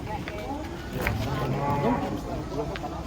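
Cattle moo repeatedly while being unloaded from a truck, low drawn-out calls rising over a busy crowd murmur and nearby talk, with scattered clatter in the background.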